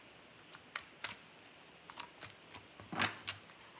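Tarot cards being shuffled by hand, a series of short papery riffles and soft snaps spaced irregularly, close and fairly quiet against a faint room hush.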